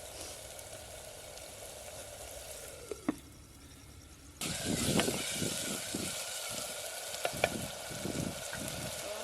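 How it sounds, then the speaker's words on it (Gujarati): Dry red chili frying in a pan in a Gujarati village kitchen, a soft steady sizzle that pauses briefly, then swells louder with crackling pops and stirring scrapes. "લાલ મરચું નાખી દઈએ કોરું ઘડીક સડવા દઈએ"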